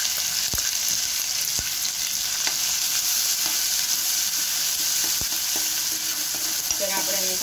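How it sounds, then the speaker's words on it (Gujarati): Ginger, chili and garlic paste sizzles steadily in hot oil in a pan, with occasional sharp clicks from stirring, for a veg cheese frankie filling. The sound is continuous and up close, and no one speaks. "આપણું તેલ આવી ગયું છે, એની અંદર આપણે આદુ મરચાં અને લસણની પેસ્ટ નાખશું."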